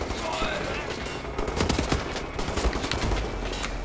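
Dense, loud bursts of automatic gunfire rattle through a Wolfenstein The New Order firefight, shots overlapping in rapid fusillades that swell toward the middle and continue throughout.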